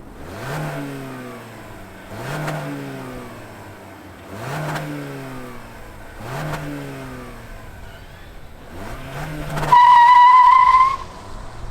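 Toyota Corolla hatchback (2022, 6-speed) engine revved repeatedly, five sharp bursts rising and falling in pitch at steady intervals, ending in a loud high squeal.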